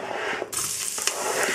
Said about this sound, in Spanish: Hemos cortado la cebolla y el puerro y lo vamos a incorporar